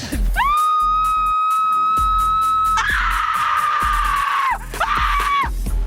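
A volunteer on a film set lets out a long, loud, high scream, sustained for about four seconds, then breaks off and adds a second shorter scream, close and alone without talk.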